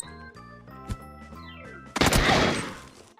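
Gunfire in the game PUBG: a sudden loud burst of shots and crashing noise rises over quieter in-game music and fades out over about a second.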